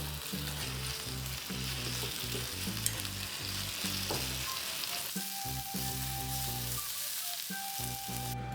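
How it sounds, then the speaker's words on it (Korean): Shredded cabbage stir-frying in a pan with soy sauce, chili powder and mirin, a steady loud sizzle with scraping stirring throughout and no talk. "양배추를 넣어 볶아주시면 됩니다"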